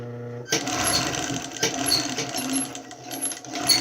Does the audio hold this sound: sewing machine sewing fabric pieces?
yes